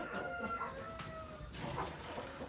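Rooster crowing with a harmonic call near the start, set among other chickens on a farm during morning chores, mid-distance over steady background clucking and yard noise.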